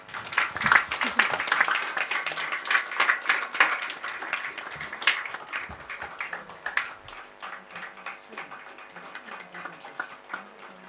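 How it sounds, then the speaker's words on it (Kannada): Audience applause at a concert on the rhythmic aspects of H. Yoganarasimham's compositions: brisk, crowded clapping that swells at first and then gradually thins and fades. "ಎಲ್ಲ ಜೋರಾಗಿ ಚಪ್ಪಾಳೆ ಹೊಡಿಬೋದು"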